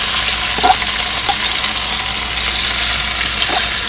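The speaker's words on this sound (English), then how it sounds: "We're going to fry up these onions and use it as a topping." Onions in heated oil over medium heat sizzle loudly and continuously in a close, dense hiss, with a few faint clinks now and then.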